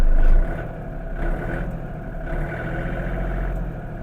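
A Yanmar US-330 mini tractor's diesel engine idles nearby, a steady low drone with slight rhythmic pulsing and no other sounds.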